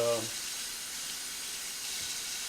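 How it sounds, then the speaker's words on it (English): Warm tap water running steadily into a kitchen sink, a constant soft hiss and splash, with a brief voice at the very start. "get your water running, warm water, comfortable"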